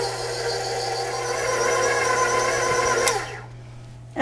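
A stand mixer runs on its stir setting, working cookie dough for snowball cookies with a steady whirring motor hum that cuts off abruptly near the end, followed by a brief knock.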